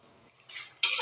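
Flat beans being turned over in a cooking pan: a brief, quiet scrape that ends in a sharper metallic clink of a utensil against the pan.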